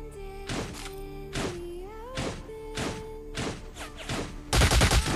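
Gunfire from the Android video game Cyber Hunter Lite: a series of sharp shots at a steady rhythm over sustained game music, ending in a louder burst of rapid shots.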